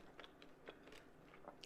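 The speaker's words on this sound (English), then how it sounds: "and pausing like this because I'm chewing," Food being chewed during a vegan mukbang gives off soft, close crunching bites in an irregular series, faint and with no speech.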